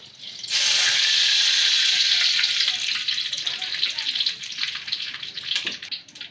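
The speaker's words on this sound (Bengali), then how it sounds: "হলুদ দিয়ে মাখিয়ে মাছটি ভেজে নিব" Turmeric-coated fish drops into hot mustard oil in a wok and sizzles loudly at once, a steady close-up frying hiss that eases slightly over several seconds.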